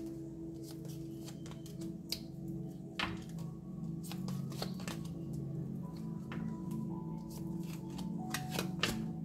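Tarot cards being shuffled by hand, a steady run of soft riffling and slapping card sounds over a low background hum, close and fairly quiet, with no talking.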